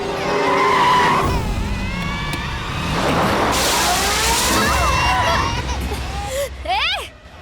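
A car skids to a stop with loud tire squeal and engine roar rising and sweeping up near the end, while voices shout and talk over it.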